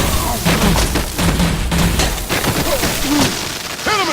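Rapid gunfire in a Batman video game, a dense volley of loud shots and booms that dies back briefly and starts up again.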